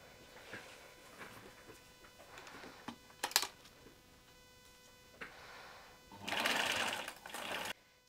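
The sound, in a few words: sewing machine zigzag stitching fabric pieces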